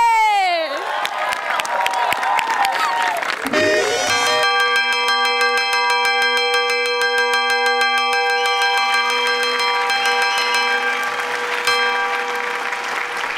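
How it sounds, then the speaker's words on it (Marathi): A bright metal bell rings repeatedly with sustained shimmering overtones, loud and close, over a comedy show audience cheering and clapping. "काय घंटा वाजाडतो रे?"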